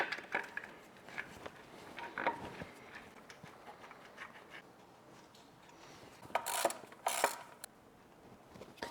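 An AC compressor is fitted back into place on a fire-damaged BMW 335i: scattered metallic clicks, ratchet-like ticks and rubbing, with a few sharper clanks toward the end, fairly close and moderately quiet.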